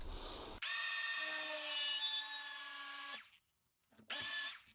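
An angle grinder cuts porcelain tile, a loud steady high whine for a few seconds that drops off abruptly, then a short silence before it spins up again.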